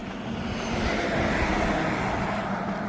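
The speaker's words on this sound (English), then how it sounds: "there's no shoulder on the road here, and the cars are doing 65 plus miles an hour." Cars travel fast on a road with no shoulder at 65-plus miles an hour, a close, loud whoosh of a vehicle passing by with a steady roar of tyres and wind.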